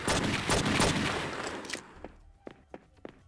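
Video game gunfire from True Crime: New York City, a dense burst of rapid shots for nearly two seconds, then a few sparse, sharper single reports spaced apart as the firing thins out.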